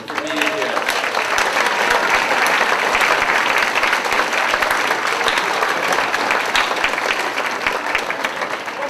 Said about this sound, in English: I'd like for all of you to give one another a round of applause for being here.